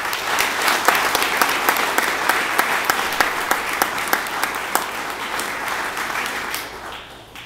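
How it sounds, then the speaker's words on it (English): A room full of donors at a Boys & Girls Club donor night claps in a steady, full round of applause that tapers off and dies away in the final second. "So please join me in giving all of you a wholehearted thank you through a round of applause"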